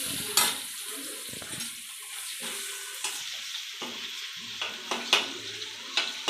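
Ginger-garlic paste fries and sizzles in a pan, with a steady background hiss broken by repeated sharp scrapes and clinks of a spoon stirring it against the metal, close and fairly loud, no talking.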